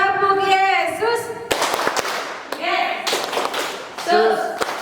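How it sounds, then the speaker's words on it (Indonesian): A group of Sunday school children at a Christmas celebration claps a rhythmic Jesus clap pattern, with sharp, uneven bursts of hand claps mixed with voices chanting along. "Kakak mau dengar dulu tepuk Yesusnya ya. Tepuk Yesus."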